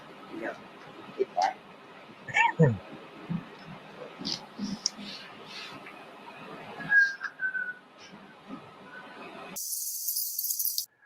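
A person whistles a few short, bright notes amid background chatter and bustle, with a sustained high hiss near the end.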